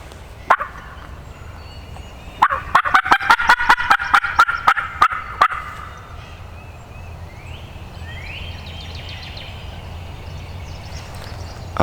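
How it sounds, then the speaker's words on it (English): A sharp turkey call during a hunt, then a rapid series of loud clucking yelps with a gobble, followed by quieter distant wild turkey gobbling over soft outdoor background. "I feel fairly confident I just heard a bird gobble"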